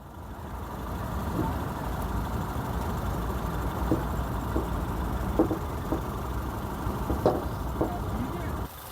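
A Honda City car engine idling in Kuwait, a steady low rumble running through the whole stretch with a few faint knocks on top and voices speaking nearby.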